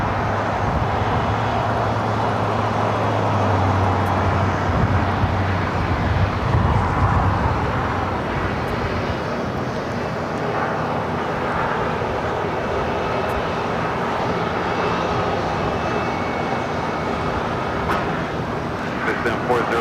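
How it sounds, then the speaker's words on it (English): A United Boeing 777 airliner sits lined up on runway 25 right at LAX, its engines giving a loud, steady rumbling drone broken by occasional voices. "got that United 777 all lined up"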